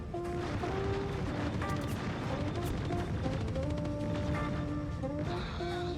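Rapid gunfire in the video game Star Citizen targets a turret, with dense bursts of shots and crashes layered over a continuous, tonal in-game hum and beeping alerts.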